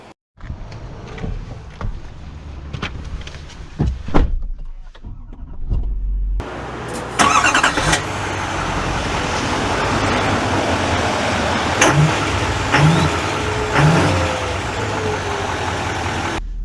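A 2024 GMC Sierra HD AT4X diesel pickup's engine cranks and starts after a few clunks and handling noises, then settles into a steady, loud, low idle rumble that runs continuously.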